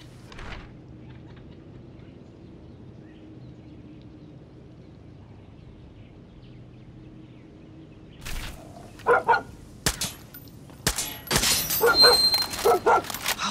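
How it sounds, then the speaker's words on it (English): A dog barks and whimpers in Far Cry 6 after a long stretch of quiet ambience, with a cluster of sharp, loud bursts arriving near the end. "A dog?"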